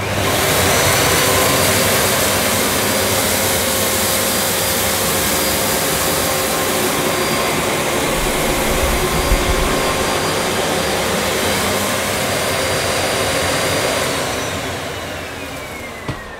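A Miele Dynamic U1 Allergy upright vacuum cleaner runs at maximum suction with the brush roll off, giving a loud, steady, close roaring whine that holds throughout and eases slightly near the end.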